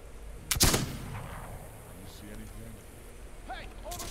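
A single loud gunshot bursts out early in a This Land Is My Land video game scene, then fades into a quiet ambient bed with faint chirps and scattered soft noises.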